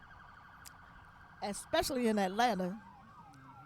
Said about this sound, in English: we can hear these sirens going for somebody